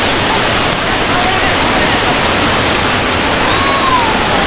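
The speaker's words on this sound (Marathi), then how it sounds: "छोटासा धबधबा" A small waterfall on a forest stream crossing near Badlapur gives a steady, dense roar of rushing, splashing water, loud and close without a break.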